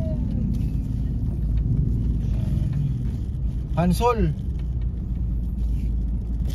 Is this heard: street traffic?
yes